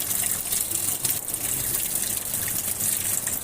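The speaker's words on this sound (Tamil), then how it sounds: "இப்போ தண்ணி ஃபாஸ்ட்டாக வருது பாருங்கள். இப்போ ஃபுல்லாக அந்த ட்ரே நிறையா வருது." Water rushes steadily from the inlet into a washing machine's detergent tray during a repair check, a continuous loud gushing hiss with no pauses and no voices.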